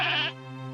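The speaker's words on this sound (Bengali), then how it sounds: "রাজ্জাক জোরে ছাগলের দড়িটা টেনে ধরতেই ছাগলটার পা ভেঙে যায়" A young goat gives one short, loud bleat up close, cut off after about a third of a second, followed by a lingering low hum.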